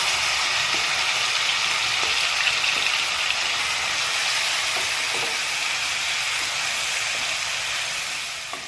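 Ground spice paste hits hot oil in a pan for malai shahi paneer, giving a loud, continuous sizzle and hiss that holds steady throughout with no talking.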